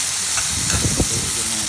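Mushrooms sautéing in a pan for a Filipino ginisang mushroom dish, giving a steady broad hiss of frying with a few soft stirring knocks near the middle, close and moderately quiet.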